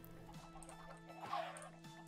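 Short clucking from a chicken inside a Minecraft-style block game, a few soft clucks over a steady low hum of game background sound.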